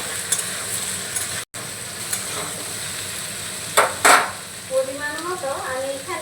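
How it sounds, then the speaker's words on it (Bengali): Diced potato stirred into a frying pan of chana dal and papaya: a steady sizzle with a few soft spatula scrapes, and a faint voice near the end. "সেই কেটে রাখা আলুটাও আমি দিয়ে দিলাম ভালো করে মিশিয়ে নেবো"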